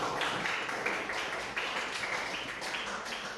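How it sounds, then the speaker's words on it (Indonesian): A classroom of students clapping steadily together, a dense patter of hand claps that carries on without a pause. "beri tepuk tangan"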